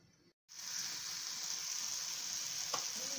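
Ridge gourd and potatoes with poppy seed paste fry in a pan, giving a steady, close hiss of sizzling after a brief pause, with a faint clink near the end.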